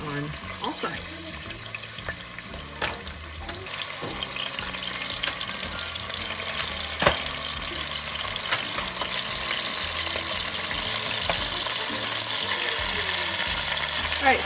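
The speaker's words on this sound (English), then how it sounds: "So I've got my Dutch oven and I've got some oil. And we're just going to start browning these on all sides." Ribs brown in hot oil inside a Dutch oven with a steady, quiet sizzle and occasional clinks and scrapes of stirring throughout.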